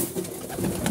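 Domestic pigeons being fed cooing close by, a brief soft throaty coo repeating over a second with no talk.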